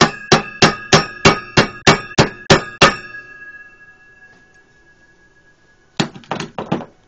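Hammer blows on a stud welded to flat material with a Soyer BMK-16i inverter stud welder during a bend test: nine sharp, loud metallic strikes in steady rhythm, a ringing tone fading out, then three more quick hits.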